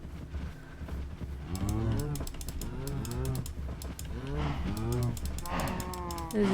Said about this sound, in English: Hello, cows. There's quite a few cows.